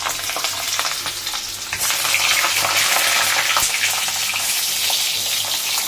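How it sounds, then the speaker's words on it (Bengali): Pointed gourd (potol) frying in hot oil, a loud continuous sizzle and crackle that intensifies partway through, with faint stirring. "তেলটা গরম হলে পরে এবার পটলটা ছেড়ে দেবো, ছেড়ে দিয়ে ভাজবো।"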